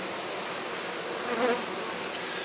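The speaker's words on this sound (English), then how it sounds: "maybe they're winter bees and nurse bees that haven't been outdoors and don't know the way around" Honey bees buzz in cool autumn air outside a hive, a steady, fairly soft insect drone that swells briefly midway as a bee passes close.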